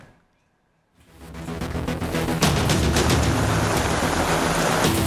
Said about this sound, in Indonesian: hujan deras yang di Jakarta tidak hanya membuat banjir menggenang